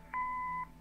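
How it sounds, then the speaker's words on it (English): A single steady electronic answering machine beep in a video game, clean and mid-pitched, lasts about half a second against a faint background hum. "Leave a message after the beep."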